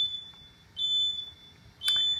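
A security system alarm sounds three short, high electronic beeps spaced about a second apart, clear and fairly quiet in an otherwise still room.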